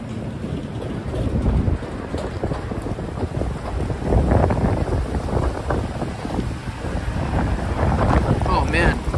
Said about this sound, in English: Oh man, the wind is brutal tonight.